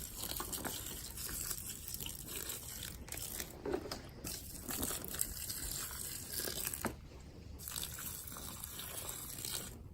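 Water is poured steadily into a horse's feed bucket, giving a continuous gushing splash with some crunchy, crinkly texture from the dry feed, close and fairly loud.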